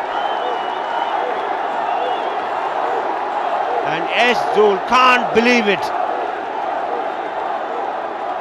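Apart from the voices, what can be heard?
cricket crowd roaring at Ranji Trophy match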